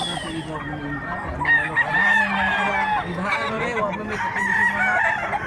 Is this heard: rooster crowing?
yes